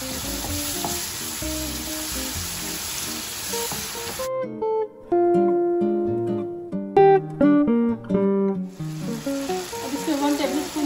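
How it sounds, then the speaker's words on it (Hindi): Mushroom masala with curd fries in a pan, giving a loud, dense sizzle at the start and end, with a stretch of music in the middle. "इस सब को अच्छे से भूनेंगे।"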